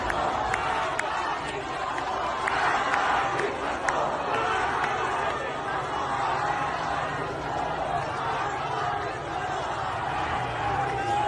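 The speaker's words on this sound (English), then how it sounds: "That is a mass of them, a huge crowd." A huge crowd of protesters fills the streets of Tehran, a dense, steady roar of many voices, shouts and chanting sustained throughout at a loud, even level.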